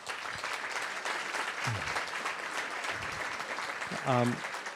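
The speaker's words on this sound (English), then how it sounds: "please give them a round of applause also" An award-ceremony audience applauds the Friedman family in a sustained round of clapping, with a voice speaking over it near the end.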